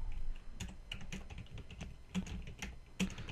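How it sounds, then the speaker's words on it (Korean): Quiet, close keystrokes on a computer keyboard while entering data into an Excel spreadsheet, an irregular run of light clicks and taps with a couple of sharper presses. "조건에 나와 있는 대로 입력을 하겠습니다"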